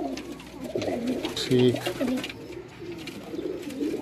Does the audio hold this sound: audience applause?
no